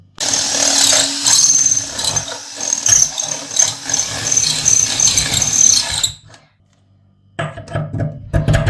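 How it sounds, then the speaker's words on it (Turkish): A drill cuts a hole for a water purifier faucet, a loud, harsh, squealing whine that grinds on for about six seconds, breaks off into near silence, then resumes briefly. "Bu şekilde musluğumuza uygun deliği açıyoruz."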